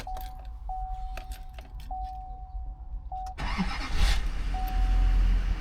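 Keys jingle with a steady warning chime, then a vehicle engine cranks and fires, settling into a loud, close running idle.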